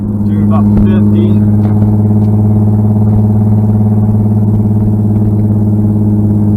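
A 1995 BMW M3 with about 250 horsepower cruises in fifth gear at around 50, its engine a loud steady droning hum heard from inside, with a few light clicks and clatters early on.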